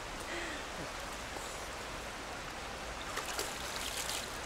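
Water flowing in a natural river current in rural India, a steady broadband wash of stream noise with faint trickling, fairly close and continuous, with a few brief louder splashes near the end.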